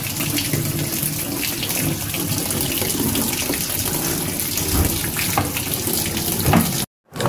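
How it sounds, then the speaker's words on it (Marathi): Water gushes from a connected hose pipe into the tub of a Whirlpool semi-automatic washing machine, a loud, steady rushing splash that runs continuously and cuts out briefly near the end. "मित्रांनो पाण्याचा पाईप आपण जोडलेला आहे."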